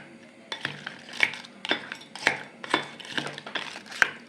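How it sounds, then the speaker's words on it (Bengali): A spoon scrapes and clinks against a microwave dish as pulao rice with raisins, bay leaves and cashews is stirred, giving irregular knocks and scrapes roughly every half second. "এবার একটু ভালো করে এটাকে নেড়ে নিতে হবে।"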